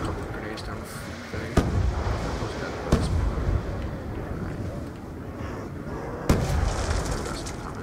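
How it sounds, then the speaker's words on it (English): Grenade explosions in the Call of Duty zombies map Mob of the Dead, three sharp booms spaced a second or more apart over a dense background of game noise, with talk mixed in. "I'm just gonna put grenades down the"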